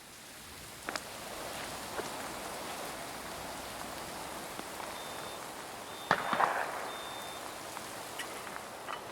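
Steady rain falls on an outdoor shooting ground in the UK during a session with a Browning 525 Sporter Laminate shotgun, a continuous soft hiss with scattered drop patters and a couple of sharper taps.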